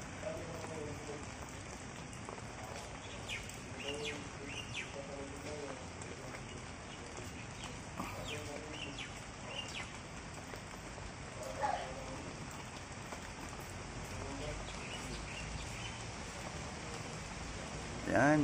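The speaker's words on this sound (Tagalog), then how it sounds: "Kahit umuulan" Steady rain patters on a surface throughout, with muffled voices and occasional movement sounds underneath.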